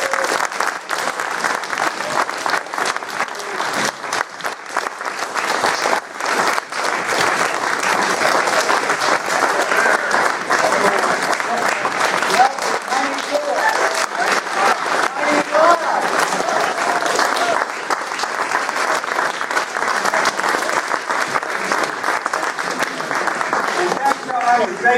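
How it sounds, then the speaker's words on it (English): A college audience gives a long, rousing round of applause, dense and sustained clapping filling the room with a few voices mixed in. "please join me in a rousing round of applause"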